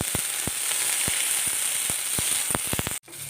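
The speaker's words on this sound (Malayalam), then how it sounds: "നന്നായിട്ട് ഒന്ന് വഴറ്റിയെടുക്കാം" Okra, or ladies' finger, sautéing in a pan for a tamarind curry, giving a steady close sizzle with sharp crackling pops scattered throughout before it cuts off abruptly near the end.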